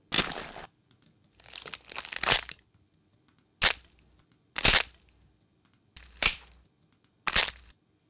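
Crunchy punch impacts from a sound-effects library, a series of sharp, loud hits with crackling, crumpling tails, spaced by silences and heard alone with nothing else around them.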